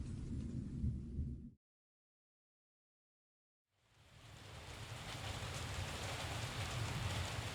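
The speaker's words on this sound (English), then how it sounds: "the perpetual pounding of rain against the metal hood, and the ripping roar of thunder" Heavy rain pounds on a car's metal hood during a storm, a dense roaring hiss that cuts out abruptly, leaves about two seconds of silence, then swells back in steadily and stays loud.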